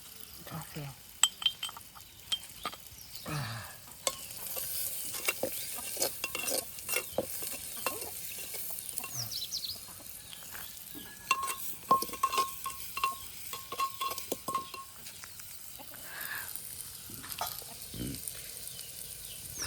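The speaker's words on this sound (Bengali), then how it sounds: "পেঁয়াজের ভিতরে রসুন বাটাটাও দিয়ে দিচ্ছি আমি" Chopped onion with garlic paste sizzles softly in a pot over an outdoor cooking fire while a spoon scrapes and clinks against the metal in irregular bursts, fairly close and quiet, with a brief high whistling tone midway.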